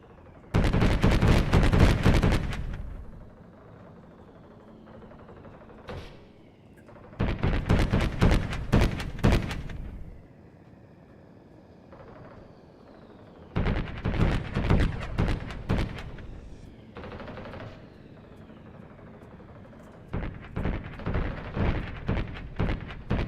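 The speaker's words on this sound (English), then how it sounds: "there's a lot of lag when these guys start shooting" Game tanks fire in a Godot 4 planet scene, loud rapid bursts of gunfire in four separate volleys, each a dense rattling cluster of shots separated by quieter gaps.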